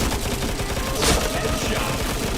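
Dense automatic gunfire from the shooter game Point Blank, a steady crackling barrage with a sharper burst near the middle, continuous and close throughout.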